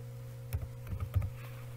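A few quick keystrokes on a computer keyboard while typing a folder name in Windows 10, soft clicks in a short cluster over a steady low electrical hum.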